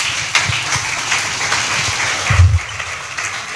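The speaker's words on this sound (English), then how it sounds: "Please, another round of applause." Audience applause at a Round Table gathering in Lekki: a short burst of clapping from a crowd, moderately loud and continuous for a few seconds, without speech.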